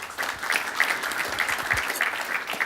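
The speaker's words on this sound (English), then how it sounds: "let's give a big round of applause" A conference audience at a healthtech startup event applauds, many hands clapping in a steady, moderately loud patter that lasts the whole stretch.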